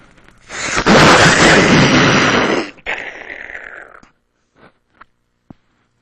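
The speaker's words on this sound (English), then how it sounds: "the way these things work is you pull the pin like this. Oh, shit! Grenade!" A grenade blast, close and very loud, a sustained roaring burst lasting about two seconds that trails into a rumble and ends with a few scattered pops.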